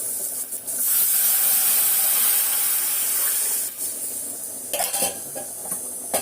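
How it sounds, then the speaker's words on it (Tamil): Food frying in hot oil in a pan during home cooking, giving a loud, steady hiss and sizzle that swells after the first second and eases near the end with a few clinks of the pan, close by and without speech. "அந்த எண்ணெயில் அப்படி வறுக்கிறோம் பார்த்தீங்களா"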